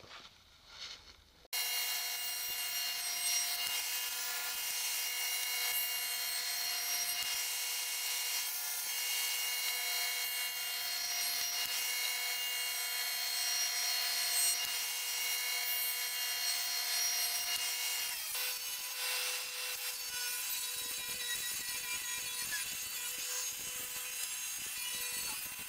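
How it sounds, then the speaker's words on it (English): Boards fed through a jointer and then a table saw while making a sliding baby gate, a steady loud machine whine with cutter noise running almost the whole time after a short quiet start. "I'm gonna pass them through the joiner and then the table saw, and I'll do that twice to get all 4 sides parallel"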